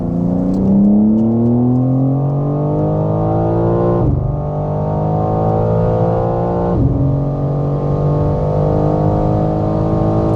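A BMW M3 or M4 engine revs hard at full throttle and climbs steadily in pitch, with two brief drops as gears shift, then keeps pulling loudly and close.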